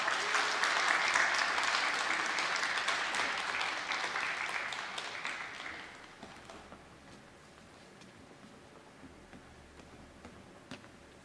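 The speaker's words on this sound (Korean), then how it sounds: "우리 박수로 우리 선교사님을 모시도록 하겠습니다." A church congregation at a Wednesday prayer service applauds to welcome a missionary, a dense burst of clapping that gradually thins and fades out over about six seconds, leaving a quiet room.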